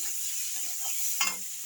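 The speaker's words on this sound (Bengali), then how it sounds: "হালকা জল দিয়ে ভালো করে আলুগুলোকে ভেজে নিচ্ছি।" Boiled potatoes frying in a wok with a little water, stirred with a spatula: a steady hiss runs throughout, with a brief louder scrape near the end.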